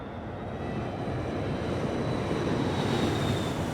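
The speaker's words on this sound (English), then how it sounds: "As the plane descends" Airliner engines during descent toward stormy weather, a dense, steady roar with a faint high whine, continuous and even throughout, with no voices.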